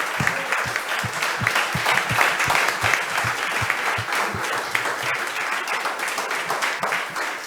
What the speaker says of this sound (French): Je voudrais un tonnerre d'applaudissements pour Véronique Angers de Fribert quand même